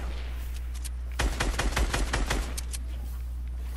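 Rapid automatic gunfire in Fortnite, aimed at a falling supply drop: a burst of quick, crisp shots lasting about a second and a half over a steady low hum, with no talking during the shooting.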